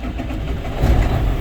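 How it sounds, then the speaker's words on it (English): A manual-transmission truck engine cranks and catches with the clutch in, its low rumble swelling louder partway through and settling into a steady close-up idle. "back to neutral, clutch in, start the truck"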